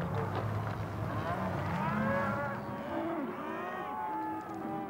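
A ranch herd of about 800 cattle in Montana mooing together, several overlapping low and drawn-out calls from different animals, loud and continuous.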